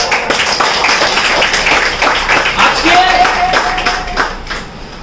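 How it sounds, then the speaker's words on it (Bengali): An audience at a multi-level marketing company gathering applauds loudly, producing a dense, continuous patter of many hands clapping throughout the short stretch, with a faint voice mixed in. "তোমাদের জন্য একটা জোরে হাততালি দাও"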